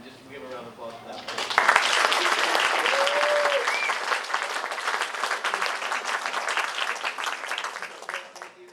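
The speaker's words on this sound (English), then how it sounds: "and just give her a round of applause for that." Audience applause at a middle school sports ceremony swells after a moment of quiet, then holds as a loud, dense patter of clapping before slowly tapering, with a voice briefly audible at the start.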